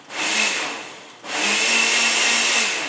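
A blender pulses keto coffee mixed with cocoa and ketones in two loud bursts of high whirring, separated by a short dip, with no talking.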